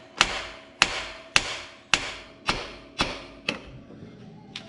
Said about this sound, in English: Give the front of the bolt a couple of good whacks, and we're good there.